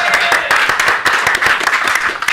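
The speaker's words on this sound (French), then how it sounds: "Tout le monde, main d'applaudissement pour Rémi." Audience applause at a French-language café show, a dense continuous patter of many hands clapping steadily and fairly loudly, with no voices over it.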